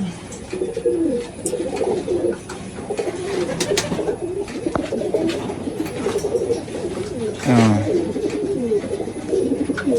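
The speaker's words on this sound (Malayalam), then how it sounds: "സബ്ജ പ്രാവ്" A sabja pigeon and others coo inside a loft, repeated low throaty warbles rising and falling throughout, fairly close and clear over a busy background of wing rustles and bird chatter.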